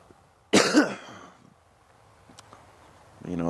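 A person coughs and clears their throat after a sip of motel coffee, one sharp, close burst followed by quiet, then a voice begins speaking at the end.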